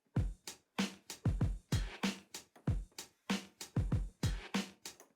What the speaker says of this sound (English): you could try doing 1 bar backspins.